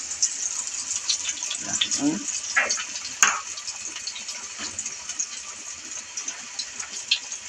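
Rohu fish sizzles and crackles in hot oil in a pan, a steady close frying hiss with small pops and a few stirring sounds, and a voice briefly heard.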